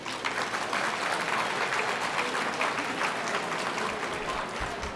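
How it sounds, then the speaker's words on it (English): Audience clapping at a formal annual dinner honouring Canada's former prime ministers, a steady, full round of applause from a roomful of guests that holds for several seconds, with a slight fade near the end. "If you've attended 5 or more of these dinners, please clap your hands"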